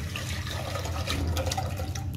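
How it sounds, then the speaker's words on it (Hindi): Tamarind and plum soaking water pours into a pot with a steady, close splashing gush that keeps a fairly even level throughout, with no voices. "इमली और आलू बुखारे का पानी हमें डाल देना है।"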